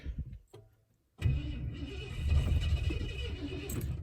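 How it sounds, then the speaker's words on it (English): A Lincoln MKV Collectors' Series car with a weak battery that has not been started for ages cranks at length. A brief stutter comes first, then a loud, continuous rhythmic churn of the starter that carries on to the end without catching. "this car's not been started for ages. I think the battery's pretty weak, but let's give it a go"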